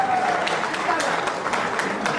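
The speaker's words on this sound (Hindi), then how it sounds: "बार फिर से जोरदार तालियां हो जाए प्लीज" Applause at a community meeting in Goa, a loud burst of crowd clapping with a voice speaking over it.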